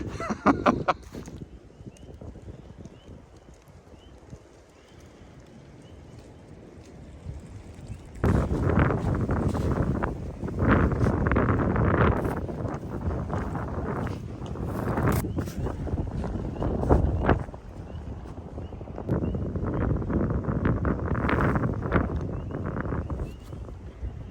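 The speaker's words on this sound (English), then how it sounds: "I'm going to talk a little bit louder because of the wind" Wind gusting on an open mountain trail, buffeting the microphone in loud rumbling bursts after a calmer start, with a few faint background sounds between gusts.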